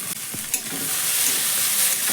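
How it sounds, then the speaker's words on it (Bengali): Vegetables seasoned with salt and turmeric are stirred in a frying pan, giving a loud steady sizzle with a few scraping strokes of the spoon at the start. "ভালো করে সবজিটা একটু নাড়াচাড়া করে মশলার সঙ্গে মিশিয়ে নিয়ে"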